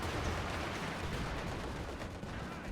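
Tank gunfire from a Panther and a T-34 in Company of Heroes 2 on the Lienne Forest map, a dense continuous wall of booming fire and rumble with no clear gaps, loud throughout.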